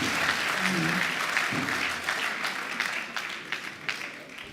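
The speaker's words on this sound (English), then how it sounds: "please another round of applause for Patrice Lumumba." Audience at a book presentation and graduation lecture breaks into applause, a loud, even wash of clapping that gradually thins into scattered claps.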